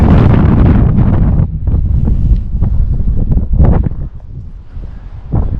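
Wind buffets a camera microphone on a mountain hiking trail, a loud, rumbling roar that surges and dips in uneven gusts throughout.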